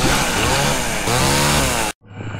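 A chainsaw in the video game Evil Dead Regeneration roars loudly and steadily for about two seconds, then cuts off abruptly and leaves a quieter, lower idle.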